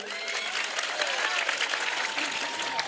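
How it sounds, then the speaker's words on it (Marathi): An audience applauds for the organising committee at a lively Marathi gathering, steady clapping that holds for about three seconds with crowd noise mixed in. "एकदा जोरदार आयोजन कमिटीसाठी टाळ्या होत्या."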